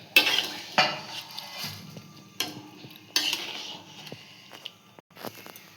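Small puti fish going into a pot of hot water on the stove for a spicy fish curry, with clinks of utensils against the pot, a few sharp clatters and soft bubbling; no talking.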